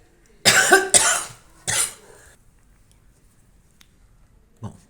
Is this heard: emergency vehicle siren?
no